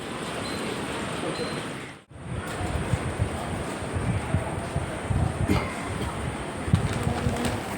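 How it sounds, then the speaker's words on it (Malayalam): A Vande Bharat Express, the 20631 Mangalore–Trivandrum service, pulls up to a platform with a loud, sustained rolling roar, rumbling low and rattling over the rails after a brief dip. "ട്രെയിൻ വരുന്നുണ്ട് കേട്ടോ വന്ദേ ഭാരത്."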